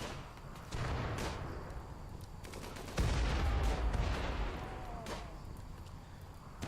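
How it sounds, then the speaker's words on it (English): A turret blows up in the RimWorld colony game, with two heavy explosive booms about two seconds apart, the second louder and followed by a long rumbling decay over constant background noise. "Oh, there's a boom right there. That's the reason everything's exploded, I reckon."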